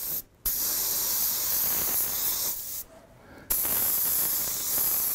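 Bursts of candy2o paint hissing from an airbrush, blasted heavily into the corners of a fire stencil design; a steady loud spray broken by two brief pauses, with no voices.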